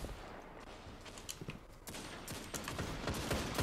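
Rapid gunfire from weapons in the shooter video game Destiny 2, including a hand cannon, crackles in dense bursts of sharp shots that grow busier toward the end, with no speech.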